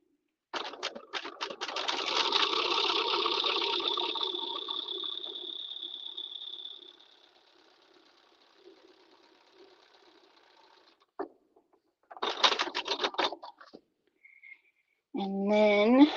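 A sewing machine stay-stitching culottes sewn from a thrifted tablecloth whirs in a steady run of several seconds, then stops and resumes in two shorter bursts, close and clear with no talk.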